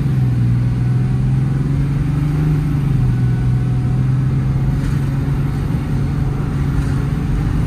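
A 2012 Ram 5500 work truck with a Cummins 6.7 diesel engine, a crane and a check engine light on drives slowly down a cul-de-sac. Its low engine drone holds steady and close, rising slightly once mid-way.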